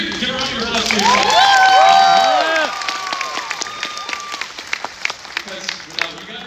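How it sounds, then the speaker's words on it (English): Crowd at a San Diego Comic-Con 2024 panel for Jurassic World: Chaos Theory bursting into loud cheering, whoops and whistles, then settling into steady clapping that tapers off, with voices audible in the crowd. "give a round of applause to yourself"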